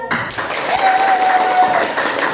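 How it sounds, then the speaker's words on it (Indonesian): An indoor audience claps for a presenter at a school leadership session, a steady wash of applause that holds at moderate loudness for a couple of seconds. "Beri tepuk tangan."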